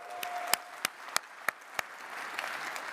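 A few sparse, separate claps from an audience at a chefs' congress general assembly, about six sharp hand claps spaced unevenly over a faint room hum, with no talking.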